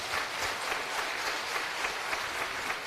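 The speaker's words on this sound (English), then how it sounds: "Huge round of applause for them." Audience applause fills a general surgery teaching session, a dense, steady wash of many hands clapping at even loudness for about three seconds with no talking.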